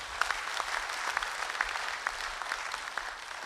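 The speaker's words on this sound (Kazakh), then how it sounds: "қадамы құтты болсын деп қошамет көрсетіп қойыңыздар" An audience at a live satire comedy show applauds with a continuous patter of many hands clapping, moderately distant and fairly soft, steady for the whole stretch without speech.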